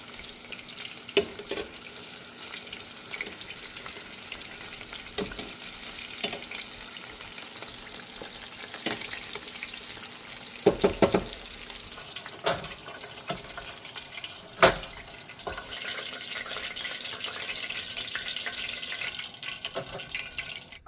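Food frying in a pan for a homemade Chili's Triple Dipper, a continuous crackling sizzle with occasional sharp clatters and stirring knocks, fairly close and moderately quiet throughout.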